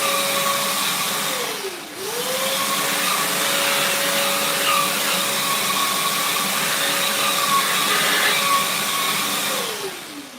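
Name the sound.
vacuum cleaner nozzle whining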